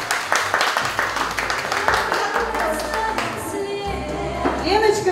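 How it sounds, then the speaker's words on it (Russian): Lively applause from guests at a jubilee celebration for Elena in Slavyanka, dense clapping filling the room steadily for several seconds, loud and close, with some voices mixed in. "Под ваши бурные аплодисменты"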